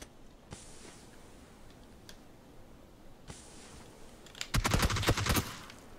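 Gunfire in the video game PUBG, a few isolated shots early on and then a quick loud burst of rapid automatic fire near the end, over faint background game noise.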